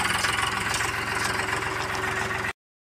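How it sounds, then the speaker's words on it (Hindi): Tractor engine idling steadily with a rhythmic low knocking throb, loud and continuous, heard up close while riding home from a pond immersion procession. "अब हम लोग ट्रैक्टर में बैठ कर जा रहे हैं घर की ओर।"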